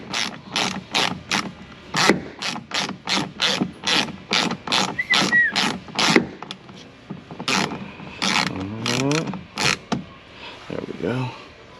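A socket ratchet loosening door bolts on a 2018 RAM Quad Cab during passenger door glass replacement, a close, rapid run of sharp clicking strokes in a regular rhythm, then a pause, a few more clicks and some rustling.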